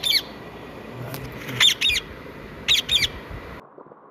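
A parrot squawks in repeated harsh bursts, single and paired shrieks spaced across a few seconds over a steady noisy background, fairly close and clear.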